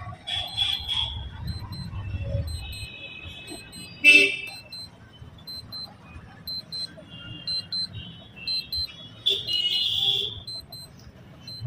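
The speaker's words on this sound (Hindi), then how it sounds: "तो दोस्तों आप लोग देख लें, अलार्म बज रहा है" A small electronic sport watch alarm beeps in short repeated bursts, faint and close, with murmured voices and some handling noise around it.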